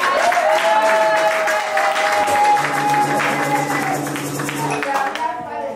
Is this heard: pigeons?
no